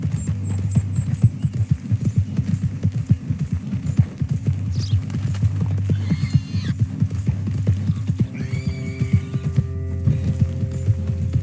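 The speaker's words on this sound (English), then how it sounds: "Slow ass horse. They just left me here." Horse hooves clip-clop in a steady, brisk rhythm while riding in Red Dead Redemption 2, loud and continuous over a low throbbing hum, with a brief whinny and faint game sounds near the end.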